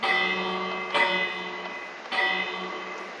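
An alarm bell in Minecraft rings twice, each strike sharp and ringing out with a long, bright decay, loud and close, with no talking.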